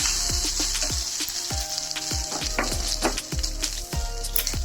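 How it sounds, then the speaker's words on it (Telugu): Rice with salt fries in a pan with a steady, close sizzle, and a utensil scrapes and stirs at a regular rhythm throughout. "మీ టేస్ట్కి తగిన ఉప్పు వేసి కలిపేసుకుని రైస్ని 2-3 నిమిషాలు ఇలా ఫ్రై చేస్తే"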